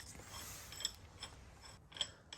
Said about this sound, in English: all Cam is doing right now is putting that spring compressor on the original spring